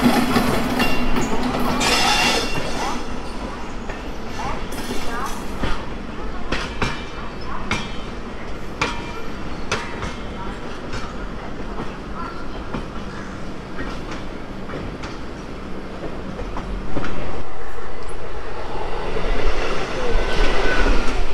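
The Sealdah–New Delhi Rajdhani Express, an Alstom three-phase rake behind Howrah engine 39178, runs out through Sealdah with continuous rail rumble and repeated clickety-clack from the wheels, loud and close, swelling louder near the end.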